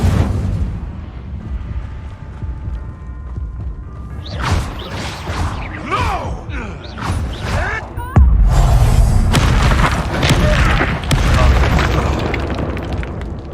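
Incendio fire spell blasts in the Hogwarts video game, a series of whooshing bursts and crackles building to a heavy booming impact followed by a roaring, rumbling flare, loud and close.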